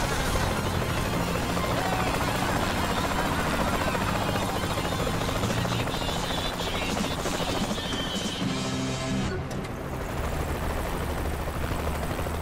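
A helicopter in the action video game Saints Row: The Third Remastered gives a steady, loud rotor and engine drone that fills the whole stretch and shifts slightly near the end, with faint game effects layered in.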